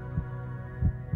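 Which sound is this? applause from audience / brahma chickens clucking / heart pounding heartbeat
heart pounding heartbeat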